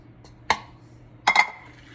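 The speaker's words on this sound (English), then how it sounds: "Mix it nicely together." Cookie batter for Italian anisette cookies being creamed with sugar in a bowl, heard as a few sharp clinks and scrapes of a utensil against the bowl, one single knock then a quick cluster, in a quiet kitchen.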